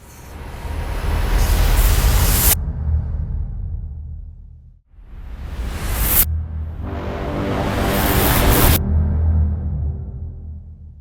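A deep, loud boom from the 8Dio Hybrid Tools 3 Epic Boom Kit swells and cuts off sharply, then repeats with a bright, horn-like reverberant wash and rumbling low end, no voices.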